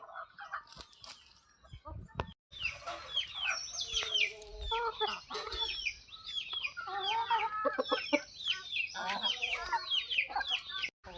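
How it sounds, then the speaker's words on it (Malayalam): Several roughly ten-month-old Mullan and Aseel-cross chickens clucking and squawking close by in an overlapping, busy chorus, with a few sharp knocks early on. "ഇവർക്കൊരു പത്ത് മാസമൊക്കെ ആയിട്ടെങ്കിൽ പ്രായമായി കാണും കണ്ടില്ലേ നല്ല കോഴികളാണ്"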